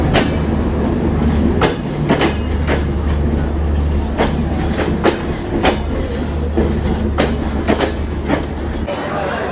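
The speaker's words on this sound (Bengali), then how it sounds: "এই LHB রেক আমার অত্যন্ত অত্যন্ত পছন্দের, পাওয়ার কারে মারাত্মক শব্দ।" An LHB-rake passenger train at Jessore Junction in Bangladesh rumbles loudly and steadily, its power car droning low beneath repeated rhythmic clickety-clack wheel beats on the rail joints, with a voice faintly audible in the mix.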